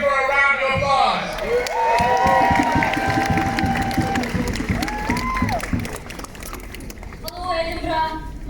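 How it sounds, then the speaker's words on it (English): An outdoor crowd at an Edinburgh ceasefire demonstration claps and cheers with whoops and shouts, a busy continuous roar that swells again at the end, with voices calling out amid it. "Please give her a round of applause."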